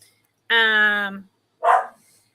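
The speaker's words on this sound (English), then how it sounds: "my dog is barking his head off at I do not know what" A single drawn-out dog bark or howl-like yelp, followed by a shorter bark after a brief pause, close and clear against silence.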